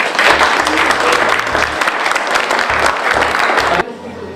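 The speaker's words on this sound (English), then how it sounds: "round of applause to yourselves." Loud, close round of applause from a school audience at a digital challenge awards event, dense clapping throughout that drops away abruptly near the end, with a low thumping hum underneath.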